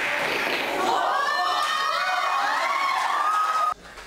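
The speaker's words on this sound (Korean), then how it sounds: "컬링이 원안에 더 가까이 갈 때마다 환호와 아쉬움이 엇갈리지만" Students cheer and shout together during a school curling match, a loud mixed crowd of young voices rising and falling over about four seconds before dropping away sharply near the end.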